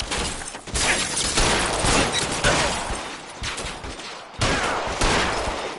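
Sustained gunfire in L.A. Noire, loud close bursts of shots crackling densely and almost without pause, with a few brief gaps between volleys.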